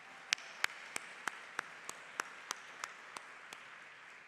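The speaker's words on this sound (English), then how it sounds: "can we give one more round of applause for our honorees this year?" A faint, sparse round of applause for honorees at a distinguished alumni and citizens awards event, with about a dozen separate distant claps spaced evenly over a steady low background hum.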